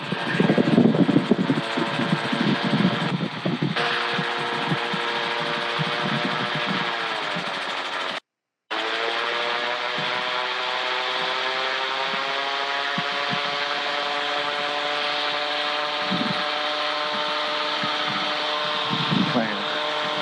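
Small airplane engine droning steadily in flight in the traffic pattern, a loud continuous harmonic hum with a slight pitch shift, heard under cockpit talk.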